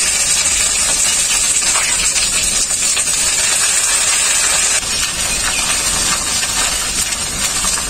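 Ginger paste sizzling in hot mustard oil with bay leaf and black cumin, giving a loud, steady hiss that fills the whole stretch without pause.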